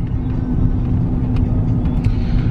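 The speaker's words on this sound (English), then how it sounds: "I'm gonna drive really slow over there." A lowered truck on 26-inch rims rolls slowly at about 20 miles an hour, giving a steady low engine rumble and road drone heard from inside the cab, with no voices.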